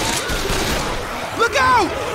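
Gunfire in the Left 4 Dead video game, a rapid rattling burst of close shots running through the clip, with a voice speaking over it.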